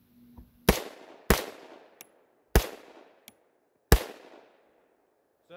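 Real gunshots fired while using an Olight Warrior 3S weapon flashlight, four loud sharp reports spaced about a second apart, each with a decaying echo and fainter clicks between.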